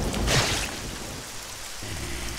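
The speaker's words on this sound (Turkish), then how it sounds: "Yağmur ne zaman bitecek acaba?" Steady rain falls in the video game How to Survive, a broad hiss with a louder burst early on before easing to an even, continuous patter with no voices.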